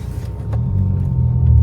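Volvo S60R T5 with an upgraded exhaust, a deep, loud engine rumble building slightly over a brief moment as the car runs up close.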